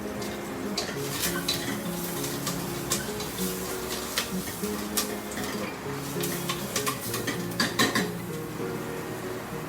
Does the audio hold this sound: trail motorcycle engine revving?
no